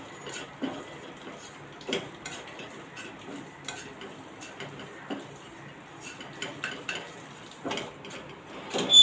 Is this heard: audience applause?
no